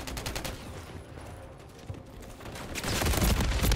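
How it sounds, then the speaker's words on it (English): Rapid bursts of automatic gunfire from the Call of Duty MWIII beta, a steady crackling volley that swells louder near the end. "I'm getting shot from everywhere"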